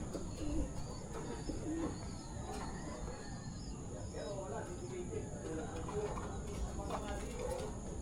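Racing pigeons at a loft coo softly among faint chirps, low and steady over a quiet outdoor background.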